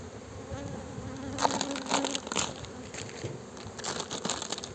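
Honeybees buzz steadily inside an opened hive during a spring inspection in Muğla. The dense, close hum carries throughout, with faint crackles and rustling of the frames and no speech.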